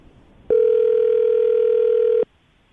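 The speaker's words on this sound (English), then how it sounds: "I'm going to dial the phone number, see if we can get her on the phone" A telephone dial tone, a single loud steady electronic hum that lasts under two seconds and stops abruptly, with no one talking.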